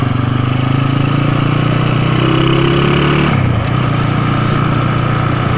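A Honda Tiger motorcycle, a secondhand former contest bike, drones loudly and steadily while being ridden, its engine note holding then dropping in pitch as the revs fall, with no talk.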